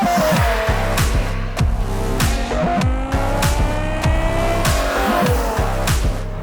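A 15-year-old V10 BMW M5 converted to a manual gearbox accelerates hard, its engine revving loud and close with rapid rises through the gears and brief drops at each shift.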